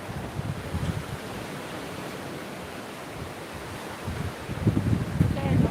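Sea waves wash ashore at sunset on the Benidorm coast, a soft continuous surf with swells rising near the end and wind buffeting the microphone.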